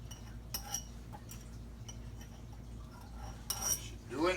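A fork clinks faintly against a can or dish while pineapple rings are lifted out, with a few light metallic taps spread through and a brighter cluster of clinks near the end.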